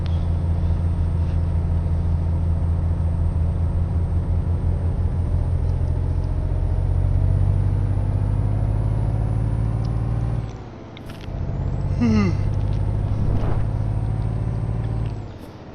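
A Peterbilt truck engine drones loud and steady while driving in Euro Truck Simulator 2. There is a low, even rumble with a brief dip near the end, like a gear change, and a faint hiss, with no talking.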